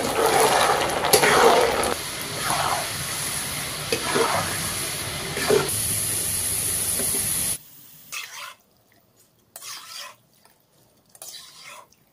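Lentils deep frying in hot oil for dal chanachur, a broad bubbling hiss with a few stirring knocks that cuts off partway, leaving short bursts of sizzle between quiet gaps.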